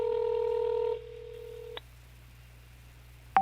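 A phone call that goes unanswered plays a steady tone for about a second, then a lower tone until a short click, then near-silence until a final brief beep.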